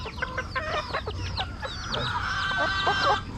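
Chickens cluck and chatter close by, overlapping short calls and trills from several birds in a continuous flock babble over low background noise.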